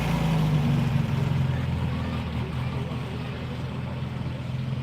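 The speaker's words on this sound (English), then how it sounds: "Love the sound of a healthy VW engine." A healthy VW engine runs at a car show, giving a steady, low, humming idle nearby with a faint tonal drone and outdoor background noise.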